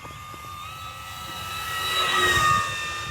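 E-flite P-51D Mustang 1.2m RC model airplane in flight with takeoff flaps down, its steady electric motor whine swelling as it passes closest at about two and a half seconds, then easing off.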